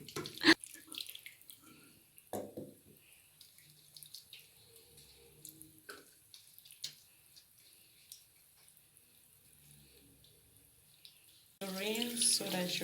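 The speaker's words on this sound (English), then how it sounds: "Rinse so that your sponge can get back to shape. Use cold water." Cold tap water runs over a makeup blender sponge as it is rinsed, a steady splashing rush that starts abruptly near the end after a mostly quiet stretch with faint handling sounds.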